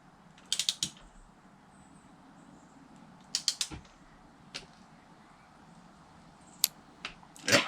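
Sharp mechanical clicks from a torque wrench reaching its set point while tightening a spark plug on a personal watercraft, arriving in short clustered bursts of two or three with quiet gaps between them.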